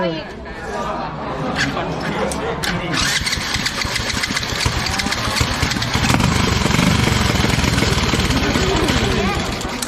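A motorcycle engine starts and runs loud and close, revving with a raspy roar, while voices chatter in the background.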